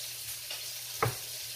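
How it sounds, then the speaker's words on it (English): Cheeseburger patties sizzle steadily in a pan with a constant hiss, broken near the middle by one soft knock of a utensil. "Let these guys sizzle for a little longer, and then we'll get ready to flip"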